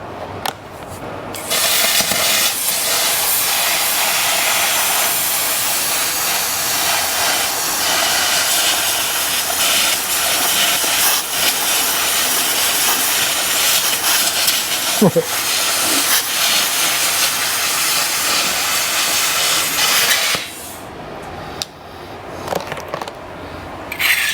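A VEVOR CUT50P small plasma cutter slicing through clamped metal, producing a loud, steady, broadband hiss that runs for nearly twenty seconds before cutting off, with brief quieter moments at the start and end.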